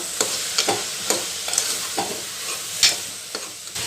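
Tomatoes sizzle in a hot pan while being stirred for chana soya pulao, a steady frying hiss broken by repeated scraping stirs of a spoon, close and clear with no talk.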